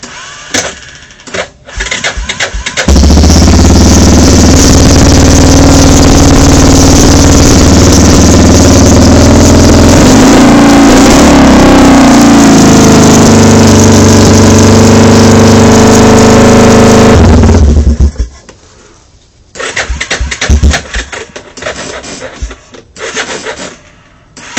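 A Yamaha Wolverine ATV engine cold-starts and runs loudly and steadily for about fifteen seconds before shutting off. Brief clicks and cranking come before the run and after it.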